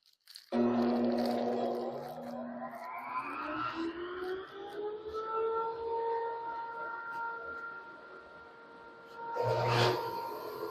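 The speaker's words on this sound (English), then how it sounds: "let's get the dust collection started" In a woodworking shop, a dust collection system starts up with a rising whine that climbs in pitch, then settles into a loud, steady hum and roar, with a brief louder surge near the end.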